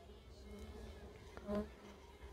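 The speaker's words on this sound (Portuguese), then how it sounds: "Abre a caixinha, Olha até que tem bastante abelhinha aqui, ó." Honeybees hum inside an opened wooden hive box, a faint close buzzing with one brief louder buzz as a bee passes near, no voices.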